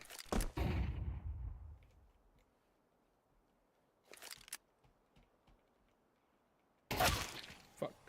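A flashbang grenade goes off in a video game as a loud, booming burst that rings out and fades over a second or two, with further sharp bursts later amid near silence.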